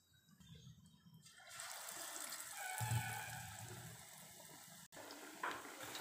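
Bread pakoda dipped in batter goes into hot oil for deep frying. After a quiet start, a fairly soft bubbling sizzle suddenly swells up and holds steady.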